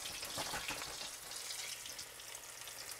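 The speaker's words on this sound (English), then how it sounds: "and frying. You hear that great sound of it's cooking." Steady crackling sizzle of food frying in a hot skillet, close and continuous, with faint bursts of spattering and no voices.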